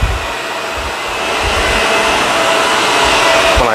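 A loud, steady vacuum cleaner roar runs close by throughout, with a few dull low thumps as it sucks dirt from a rug.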